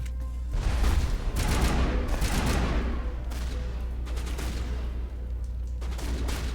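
Gunfire rattles in the Mass Effect video game in dense bursts, sometimes fast and layered, with booming low thuds under the shots, fairly loud, with no speech.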